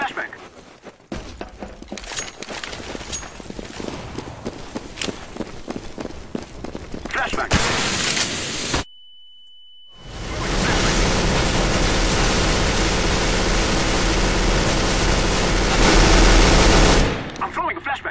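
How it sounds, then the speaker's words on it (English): Flashbang grenade in a Counter-Strike match, heard amid loud continuous gunfire and game noise, followed by a sharp cutoff into a high ringing tone and then a dense, loud roar, with voices talking over it. "I'm throwing a flashbang."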